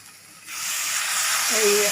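Water hits a hot pan of frying spice mixture, and a sudden loud hiss bursts out and keeps sizzling steadily. A brief voice sounds near the end.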